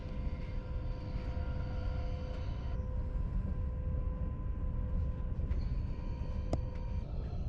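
An SBB InterCity passenger train rolls steadily along the Gotthard railway in Switzerland, a continuous rumbling roar with faint mechanical hums and a sharp click partway through.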